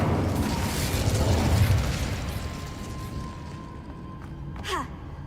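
The Incendio fire spell cast in Hogwarts Legacy: a rushing magical whoosh swells early, then a sharp fiery burst with a quick falling sparkle near the end, over faint game ambience.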